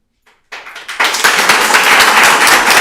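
Audience at a town meeting during a State of the Town address bursting into clapping, starting with a few scattered claps, then swelling into loud, dense, sustained applause close by.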